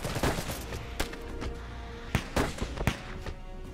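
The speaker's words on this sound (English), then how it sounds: "Grenade going out." Grenade explosions in the dieselpunk real-time strategy game Iron Harvest, with several sharp booming blasts and crackling bursts spread across a few seconds of dense battlefield noise.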